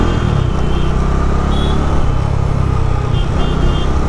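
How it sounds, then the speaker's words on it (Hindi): Bajaj Dominar 400 motorcycle riding at steady speed, a continuous low engine and exhaust drone with wind rush, loud and close throughout with no break. "एग्जॉस्ट नोट भी बहुत प्यारा है इसका"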